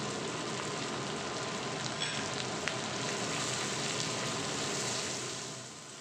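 Spices frying in a pan with added tomato, salt and turmeric, a dense, even sizzle that holds steady and close for several seconds, with a couple of faint clinks, then softens slightly at the end.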